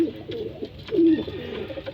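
Racing pigeons coo softly in a home loft, a couple of low rolling coos standing out over quiet background murmur.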